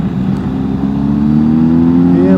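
A car in second gear accelerates on a mountain pass road, its engine note rising loud and close over a few seconds, with no talking.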